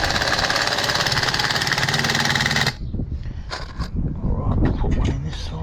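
A standard corded-style drill drives a screw into a folding garden kneeler, a loud steady motor whine for almost three seconds that stops abruptly, followed by quieter handling clatter and knocks.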